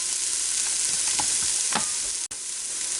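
Onions and green pepper sauté in a pot under a steady hiss of sizzling, with a few scraping knocks as a utensil stirs them through the vegetables.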